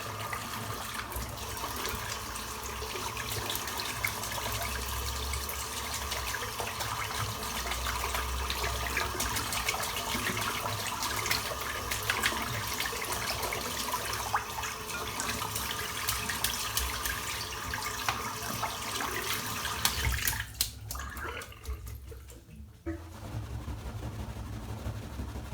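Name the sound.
rinsing shaving brush under running tap water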